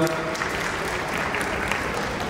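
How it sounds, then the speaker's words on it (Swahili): Applause from an audience at a Tanzanian fundraising harambee for children's medical treatment, honouring Clouds Media Group; steady, dense clapping fills the short stretch at moderate loudness without pause. "tupigie makofi Clouds Media Group pia"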